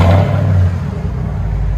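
Ford Raptor SVT 6.2L V8 with a Flowmaster Super 10 true dual exhaust, a loud, close deep engine rumble holding steady through a brief rev.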